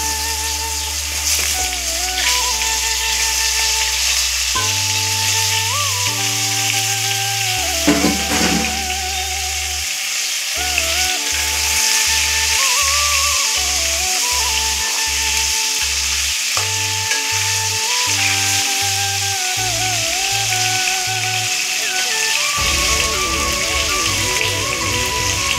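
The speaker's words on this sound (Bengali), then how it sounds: "এবার আলুগুলো ছেড়ে দিচ্ছি তেলে, মাছ ভাজার তেলে দিয়ে দিলাম" Potatoes frying in oil previously used for frying fish: a loud, continuous crackling sizzle like rain, steady throughout, with background music playing over it and no talk.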